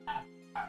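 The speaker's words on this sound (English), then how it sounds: "sorry about the dog barking" Two sharp dog barks, one at the start and another about half a second later, over a steady low electrical hum.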